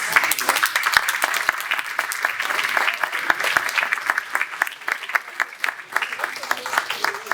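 An audience applauds at the start of a community stage show during a local festive evening in Margny-lès-Compiègne. The applause is dense and steady, with many overlapping sharp claps sustained throughout and faint voices underneath.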